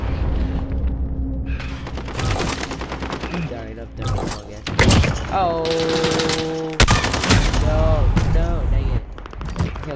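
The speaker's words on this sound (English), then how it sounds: "gunshots all over the place, dude." Rapid bursts of automatic gunfire and sharp single shots in a Call of Duty: Modern Warfare gun game match, loud and close, with tonal game effects between volleys.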